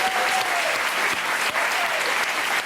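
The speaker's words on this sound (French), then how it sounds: "tout le monde applaudit" A theatre audience claps steadily, a thick, continuous wash of applause with no gaps, loud and close throughout.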